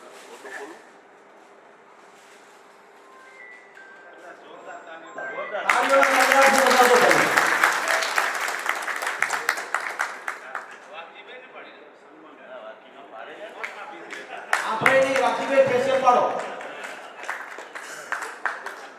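An audience at a Kutch Prajapati community hall gathering breaks into applause, a loud dense burst of many clapping hands that swells and fades, then returns in a second shorter wave. Faint chatter sits underneath between the bursts.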